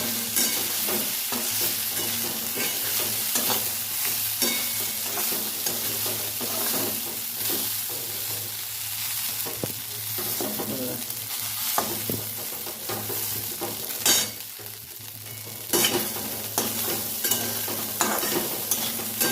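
Leftover idlis fry and get stirred through a spicy masala in a pan, giving a steady loud sizzle with frequent scraping spatula strokes throughout, no talking.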